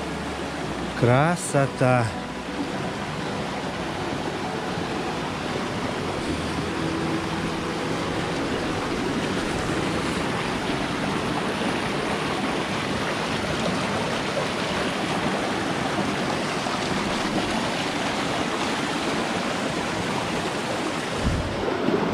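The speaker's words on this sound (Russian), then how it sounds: "Вот, посмотрите, ущелье, течет водичка" Water pours steadily through a rocky gorge in Crimea, a constant close, broadband rushing that fills the whole stretch, with a short exclaimed voice near the start.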